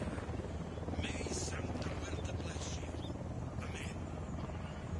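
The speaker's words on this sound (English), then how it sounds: "Get down, chopper." A video-game helicopter drones steadily with a dense low rotor rumble throughout, loud and near, while brief voice-like sounds come and go over it.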